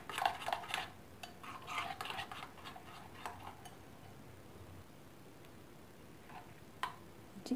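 Thin besan (gram flour) batter for chicken pakora is stirred in a bowl, with light, faint clinks and taps that bunch together early and then thin out to a few scattered ticks.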